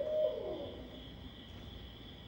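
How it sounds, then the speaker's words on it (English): A single soft owl hoot opens a night scene in a video game, brief and mid-pitched, followed by a steady insect-like drone of nighttime ambience. "the owls are sure speaking tonight"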